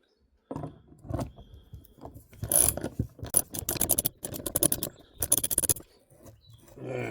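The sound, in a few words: JB Weld nut being screwed down a threaded rod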